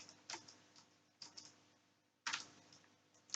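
Typing on a computer keyboard while entering code in Visual Studio, a few quiet, close key clicks in small clusters separated by pauses, with no talking.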